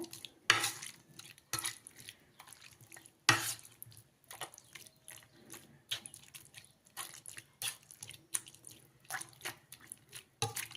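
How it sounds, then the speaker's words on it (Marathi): Roasted, peeled tomatoes being mashed with a masher in a pot, a series of irregular wet squelches and knocks of the masher against the pot, close and fairly loud, with no voices. "तर मॅशरच्या साहाय्याने आपण हे एकजीव करून घेऊया"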